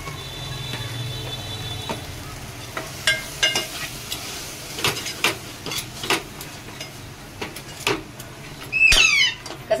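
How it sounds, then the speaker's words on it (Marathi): Homemade village masala spice tipped into a hot oily pan and stirred, giving scattered scraping clicks and soft sizzling taps throughout, with a louder clatter near the end. "आमचा गावचा मसाला आहे तो टाकते मी"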